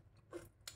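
Crispy homemade fried turture snack cracked apart, producing two quick, quiet crunchy snaps a fraction of a second apart in a calm room without talking.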